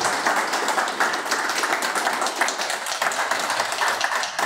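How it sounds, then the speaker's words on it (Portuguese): A church congregation claps steadily and enthusiastically for several seconds, a dense, continuous wash of applause with no talking. "e aplaude o nosso Deus"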